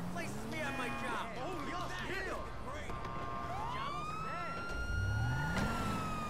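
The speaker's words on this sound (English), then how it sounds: "They'll see your sirens and they will take off." A police car siren in Grand Theft Auto V wails in rising and falling sweeps over engine noise and a rising rev near the end, with game sounds mixed in.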